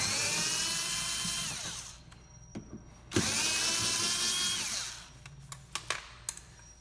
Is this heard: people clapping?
no